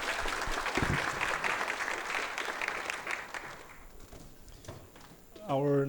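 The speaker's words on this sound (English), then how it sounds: "So let's give Dr. Augustin applause for his wonderful talk" Audience applause for Dr. Augustin after his talk at an NTU electrical engineering anniversary event: dense, sustained clapping from a hall crowd that fades out over several seconds before a voice starts speaking at the end.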